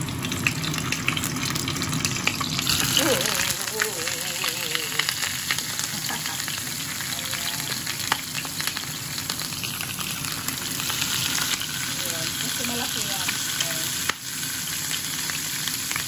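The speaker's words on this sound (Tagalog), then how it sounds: "ipiprito lang ito doon sa may pinituhan ng isda" Steady, loud sizzling of food frying in a pan, continuous throughout with occasional faint clatters and no talking.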